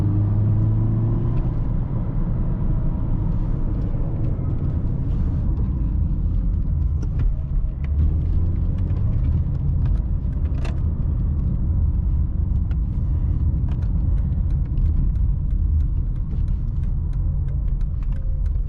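Inside a Mercedes-Benz C180 W203 with a 6-speed manual, pulling in 4th gear from about 2500 rpm through city traffic, the engine and road noise make a steady, continuous low rumble, with no voices.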